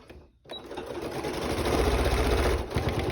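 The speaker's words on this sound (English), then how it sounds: "And now I'm going to sew here. So stitch again." A sewing machine stitches a seam for a basket, starting after a brief pause and then running steadily with a fast, even mechanical whir and rhythmic needle clatter, close and loud.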